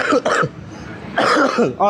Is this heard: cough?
yes